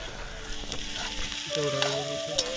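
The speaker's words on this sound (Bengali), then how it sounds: "কড়াইতে দিয়ে দিলাম কাটা পেঁয়াজ আর আমরা যেই রসুনটা থেতো করে রেখেছিলাম সেই রসুনটাও দিয়ে দিলাম কড়াইতে" Chopped onion and crushed garlic fry in a wok, giving a steady close sizzle with a brief stirring clatter partway through; no one speaks over it.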